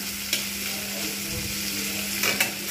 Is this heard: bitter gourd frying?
yes